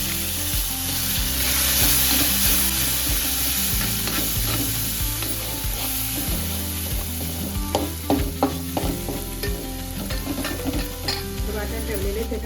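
Homemade black masala with turmeric, asafoetida and ginger-garlic paste being stirred and sautéed in a pan for a drumstick dish, steady sizzling under a low hum, with clinking utensil scrapes growing busier partway through.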